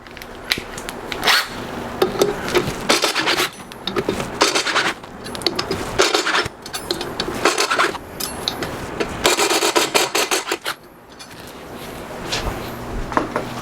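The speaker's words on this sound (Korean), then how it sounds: "그 다음에 이제 공구를 활용해서 볼트를 완전히 제거를 해줍니다." A hand tool backs bolts out of a Yamaha YZF-R1 wheel during a swap to forged aluminum OZ Racing wheels: close, repeated rasping and ratcheting bursts in uneven rhythm, with brief pauses between strokes.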